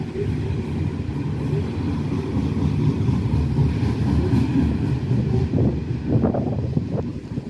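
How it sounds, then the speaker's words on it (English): A loaded Pacific National coal train heading to Newcastle rolls past as a steady, continuous low rumble with wheel and wagon noise, accompanied by wind buffeting the microphone throughout. "Full of coal this train"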